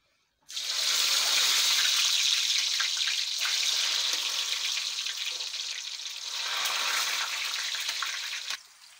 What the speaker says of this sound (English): you just take the potatoes, cut them, and then you deep fry them